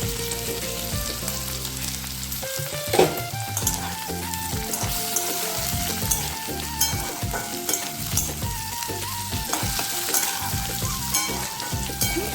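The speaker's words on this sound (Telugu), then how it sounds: "అట్లా ఇంకా కొంచెం స్ట్రాంగ్ అయ్యేదాకా వేయించుకోవాలి." Pieces of ivy gourd (dondakaya) frying in oil for an Andhra-style lemon curry, giving a continuous close sizzle and crackle with occasional stirring scrapes, steady and without speech.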